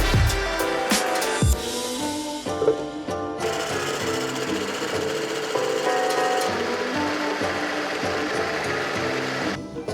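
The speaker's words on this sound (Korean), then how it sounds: "계란 흰자를 거품내줍니다. 설탕은 두 번에 나누어 넣습니다." An electric mixer whips egg whites with sugar, a steady loud mechanical whir with buzzing overtones, pitch shifting slightly as the beaters work, with a couple of sharp bumps at the start.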